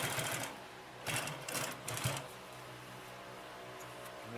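Consew P2339RB double needle walking foot upholstery sewing machine stitching through several layers of material, with short bursts of fast mechanical chatter separated by pauses, close and moderately loud against a steady background hum.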